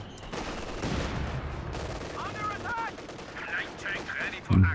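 An MG42 machine gun fires in a real-time strategy video game match, rapid bursts of automatic gunfire amid other battlefield shots and explosions, with a commentator's voice faintly underneath.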